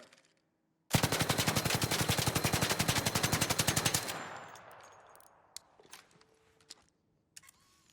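Automatic weapon fitted with a compensator fires a long, rapid, even burst in the ARC Raiders video game at 15 meters. Loud and close, it stops abruptly and leaves a fading echo and a few scattered clicks.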